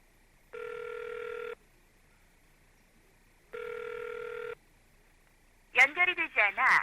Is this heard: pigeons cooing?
no